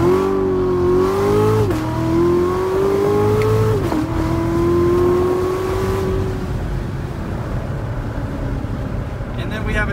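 Chevrolet Corvette Z06 with 650 horsepower and rear-wheel drive, its exhaust loud and close while accelerating, pitch climbing through two upshifts before settling into a steadier drone; a faint voice sits under the engine.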